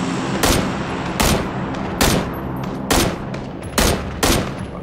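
Gunfire in the battle-royale game PUBG, a series of six sharp, loud shots at roughly regular intervals of under a second, each a broadband crack over a steady background of game ambience.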